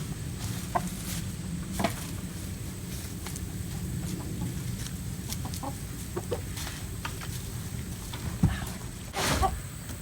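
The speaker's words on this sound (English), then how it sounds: "What's up, Roger the Rooster number 27?" Rooster and chickens clucking inside a chicken house, scattered short clucks and calls near and far over a steady low background hum, with a louder squawk toward the end.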